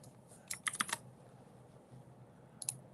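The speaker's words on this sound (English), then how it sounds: "What are you typing about?" Quick bursts of typing on a computer keyboard, a cluster of rapid clicks near the start and a brief second flurry near the end, close and fairly quiet over a low background hum.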